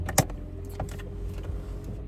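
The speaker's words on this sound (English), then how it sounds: "Sorry for the loud car." A car passes by outdoors, its steady low rumble filling the whole stretch at moderate loudness. A brief sharp click is heard near the start.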